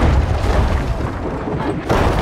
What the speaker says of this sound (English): I can shoot you with a cannon.